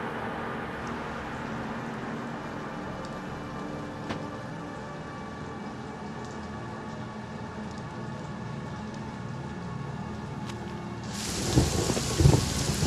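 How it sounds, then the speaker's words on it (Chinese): Steady rain falling outdoors with a rumble of thunder, a continuous wash of drops that swells near the end as a heavier burst of rain and close thunder breaks in; no one speaks. "外面下雨了，你注意点啊。"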